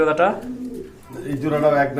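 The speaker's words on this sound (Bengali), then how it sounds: "এখানে রয়েছে জোড়া ম্যাকপাই কবুতর মাশাল্লাহ খুবই সুন্দর বিগ সাইজের কবুতর" Pigeons in a pet trade setting, including a pair of large magpie pigeons, give two cooing calls close by, with a brief pause between them.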